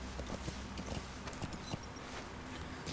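Hooves clip-clopping steadily from a horse ridden in Metal Gear Solid V: The Phantom Pain, a continuous trotting rhythm at moderate distance over a soft outdoor ambience.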